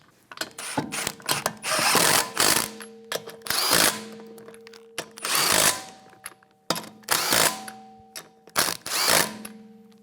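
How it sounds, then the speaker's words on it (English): Power tool snugging lug nuts on a 2013-2017 Honda Accord wheel, repeated short bursts of loud rattling ratchet-like whirring separated by brief gaps, close and without speech. "Using a 19mm socket, torque your lug nuts in a star pattern to 80 foot-pounds."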